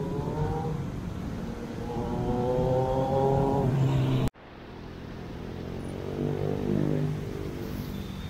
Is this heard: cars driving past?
yes